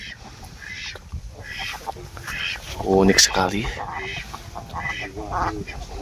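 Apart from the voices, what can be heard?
wild ducks quacking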